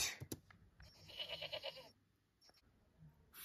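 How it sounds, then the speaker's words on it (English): Goat bleating in a short run of wavering, nasal cries, moderately loud and close, with a few sharp knocks around them. "Goat."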